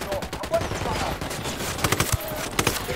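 Rapid bursts of automatic rifle and machine-gun fire in a Ghost Recon Wildlands firefight, dense and loud, crackling continuously with sharper individual shots throughout.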